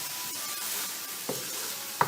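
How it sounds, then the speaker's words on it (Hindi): Garlic and ginger frying in a pan, a soft steady sizzle with a couple of brief stirring scrapes near the end and no talking. "इसको अब हमने इसके अंदर इतना भूनना है अच्छे तरीके से, लहसुन अदरक इसमें हमारा भून जाए।"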